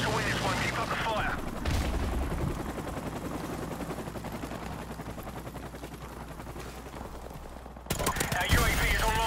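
G36 assault rifle gunfire in the shooter game Modern Warfare Remastered: rapid automatic bursts cracking under a busy, dense battle mix, loudest at the start and again near the end.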